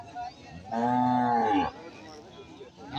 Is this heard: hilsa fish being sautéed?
no